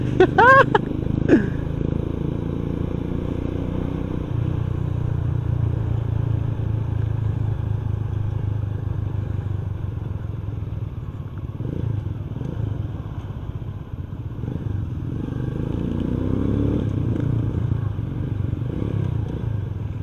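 A motorcycle being ridden gently during its break-in period rolls along at a steady low drone for the whole stretch, with no speech over it, and a brief clatter near the start.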